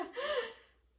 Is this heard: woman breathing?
yes